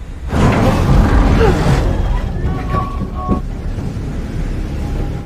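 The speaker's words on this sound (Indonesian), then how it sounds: "Kapal tersebut kemudian mulai berjalan melintasi laut." A steady, loud rumble of a vessel moving through water, with broad wind-like noise throughout and a faint tonal hum.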